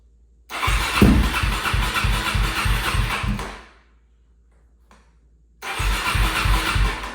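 A DRZ400SM motorcycle fitted with a Lectron carburetor fires up and runs loudly for about three seconds with a pulsing exhaust, cuts out, then restarts near the end after a short quiet gap.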